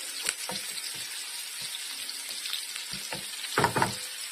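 Village peppers frying in a pan without butter for a menemen give off a steady, close sizzle, broken by scraping stirs and a louder crackling burst near the end.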